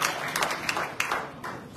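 Audience at a Sicilian regional political assembly breaks into applause, a moderate burst of clapping with a few distinct sharp claps standing out, fading somewhat toward the end.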